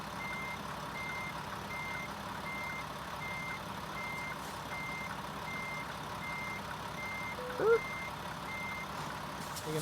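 A truck in American Truck Simulator reverses toward the loading bumpers, its reversing alarm beeping in an even repeated rhythm over a low idling engine, with a brief thump or air-brake hiss near the end.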